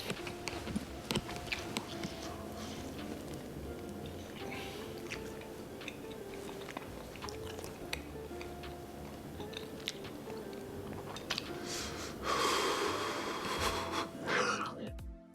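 Close, wet chewing of a bite of keto cheeseburger casserole, steady mastication with a few crunchy bites, then a louder burst of mouth noise near the end.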